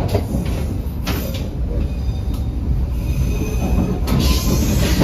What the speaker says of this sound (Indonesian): Jam 7:35 kereta api Pandalungan masuk di stasiun Probolinggo